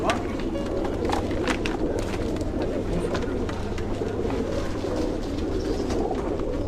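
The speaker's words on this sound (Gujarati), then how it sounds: "આ લ્યો આ કબૂતર લાવ્યો" Injured and sick pigeons coo close by amid busy ambient noise at a bird rescue, with people talking at times in the background.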